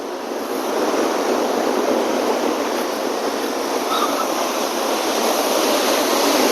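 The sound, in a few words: water flowing from reservoir release near bridge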